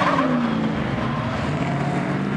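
A Stadium Super Trucks race truck roars around a hairpin at the 2023 Long Beach race, engine loud and continuous with a brief rising whine of strain as it takes the corner.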